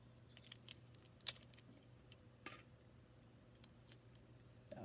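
Scissors snip through paper for a Twirler Wings balance and motion activity, giving several faint, crisp cuts spaced irregularly over a quiet hum.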